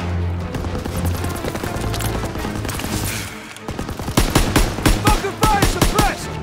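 Machine-gun fire at an MG pillbox in Call of Duty WW2, with sustained rattling bursts giving way to sharper, louder separate shots near the end, dense and close, over battle noise.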